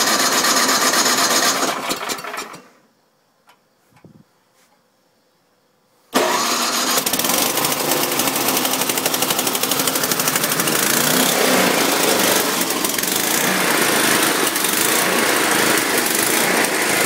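A Murray snowblower with a suspected dirty carburetor runs loudly, cuts out into near silence for a few seconds, then restarts and roars steadily at close range with a rough engine drone, no talking.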